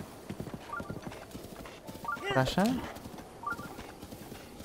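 Horse hooves clip-clop softly on a path in the video game Zelda: Breath of the Wild, quiet and steady beneath the game's ambience while someone speaks briefly.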